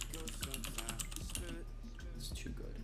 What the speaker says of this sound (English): I start typing on this thing